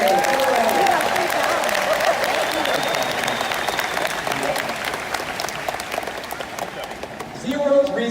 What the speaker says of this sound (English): how about we give our volunteers a huge round of applause for doing a great job today